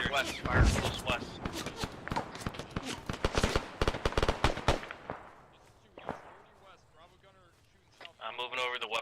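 Rapid cracking gunfire from a military video game, with a tight volley of sharp shots early on and scattered reports later, while several players talk over the radio throughout.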